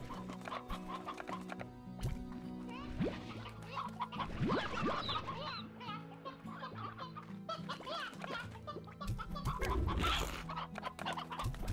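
Chickens in the video game Slime Rancher cluck repeatedly over a steady backdrop of game music, with short bursts of clucking rising and falling throughout.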